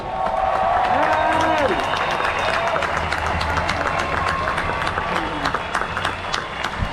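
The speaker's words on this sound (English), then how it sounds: "Big round of applause for Alden Crystal" A crowd at a freedom march rally claps and cheers for a speaker outdoors, sustained applause with scattered whoops while voices talk over it.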